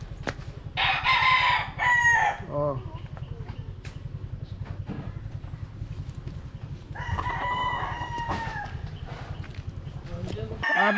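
A young gamecock stag crows loudly and close by, two drawn-out crows with a quick cluck between them, over a steady low hum, while a voice talks nearby.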